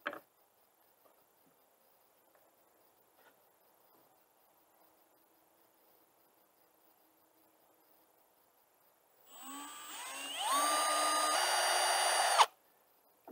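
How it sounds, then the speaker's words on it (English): A power drill pre-drills screw holes in a board for a bluebird house, a single whirring burst of about three seconds that rises in pitch, close and fairly loud after near silence. "This is where we're going to pre-drill."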